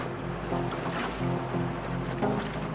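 Steady wind and rolling surf at the mouth of the Columbia River, near East Sand Island, with a continuous low rumble, gusty hiss and rhythmic swells rising and falling, with no voices.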